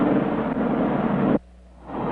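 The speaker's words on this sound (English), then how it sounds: "And this is a French fire engine that floats on air." A French hovercraft fire engine at the 1967 Paris air show gives off a loud, steady broadband engine roar that cuts out abruptly partway through, then swells back in after a short lull.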